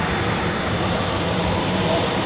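A Land Rover Defender 2.2 TD4 Puma diesel with a stage 1 remap runs on a dyno, making a loud, continuous roar blended with rushing airflow, steady for the whole stretch.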